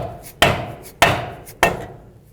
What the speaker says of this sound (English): So what we'll do now is go to our rubber mallet, push our rear bushing in place.